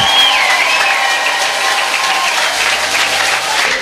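Loud, sustained applause from a crowd, a dense steady wash of clapping that continues without a break.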